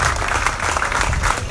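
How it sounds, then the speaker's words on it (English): Brief, dense burst of audience applause at a community meeting, a full room clapping steadily throughout. "Give yourself another round of applause"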